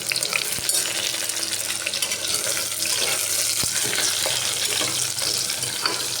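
Chopped garlic, shallots and green chilli sautéing in a pan for sambar rice, a steady close sizzle with occasional stirring scrapes, continuous throughout.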